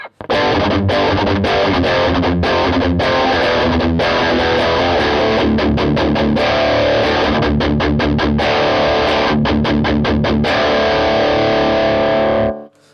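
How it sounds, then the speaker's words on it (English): Heavily distorted electric guitar through a Revv G3 distortion pedal, playing loud, sustained chords with quick rhythmic strums, cutting off abruptly at the end. "It has a strong tone, distortion tone, probably because there's a big transformer inside the pedal baby"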